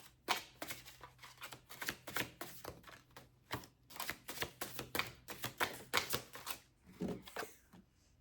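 Tarot cards shuffled and handled close up, a rapid run of crisp, dry riffling snaps and flicks in uneven bursts, soft and intimate with no voices.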